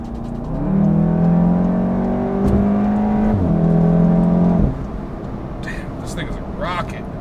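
A Volkswagen MK7 Golf R in comfort mode accelerating hard on the road, its engine note climbing through rising revs in two pulls with a gear change between, loud and close from inside the car, then easing off.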